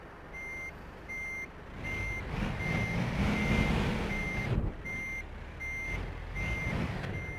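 A Volvo FH Series 6 truck with a 780-horsepower engine sounds its reversing alarm: evenly spaced, high beeps repeating over the low, rumbling idle of the engine.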